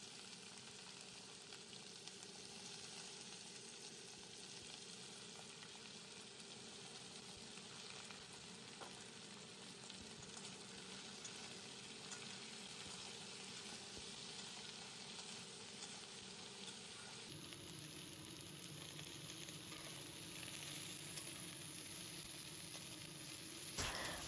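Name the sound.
vegetables and spinach stalks frying in a pan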